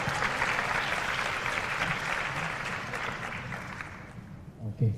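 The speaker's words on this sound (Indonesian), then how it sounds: "Sekali lagi beri tepuk tangan yang meriah" Applause for a speaker at an Indonesian question-and-answer event between Anies Baswedan and Jakarta student council heads: a sustained, dense wash of clapping from a large audience that stays steady, then thins and fades near the end.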